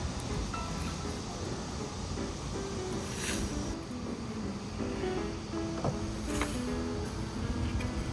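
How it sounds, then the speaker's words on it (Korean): Strong wind gusts across an open rooftop, a steady broadband roar with low rumbling buffeting on the microphone that swells slightly at moments, constant throughout with no speech. "바람이 너무 많이 붑니다."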